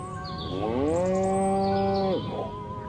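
A single cow moos in the video game Destroy All Humans!, one loud, drawn-out, tonal call lasting about a second and a half, clear and close against a faint background hum.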